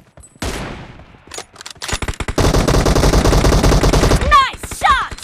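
Rapid bursts of gunfire in a PUBG Mobile team match, with M24 sniper rifle shots among them: sharp loud cracks in quick clusters, then a dense stretch of firing, with a voice chirping briefly near the end.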